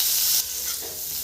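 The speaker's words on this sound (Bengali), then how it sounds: "দিয়ে দিব ফুলকপিগুলো। ভেজে রাখাচ্ছি।" Half-boiled cauliflower florets fry in a pan with a loud, close, continuous hissing sizzle that eases slightly partway through the short burst.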